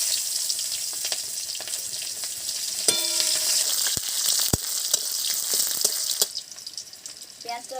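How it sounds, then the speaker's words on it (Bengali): Chopped onions fry in a pan with bay leaf, dried chilli and cumin in a village kitchen, giving a steady close sizzle with occasional stirring scrapes and clinks throughout. "পেঁয়াজটা লাল করে ভাজা হয়ে গেছে।"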